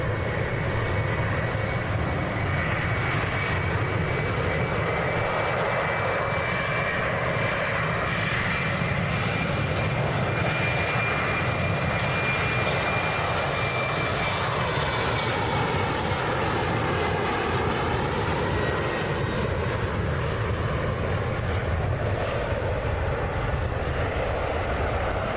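A Helvetic Airways airliner takes off, its jet engines giving a loud, steady broadband roar with a high whine, holding strong throughout with no talk over it.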